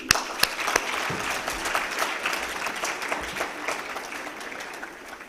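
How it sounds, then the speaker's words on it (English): An audience at a business summit in Islamabad applauds a founder and CEO taking the stage, a full burst of clapping that starts sharply and slowly thins out over several seconds. "I believe she deserves the biggest round of applause"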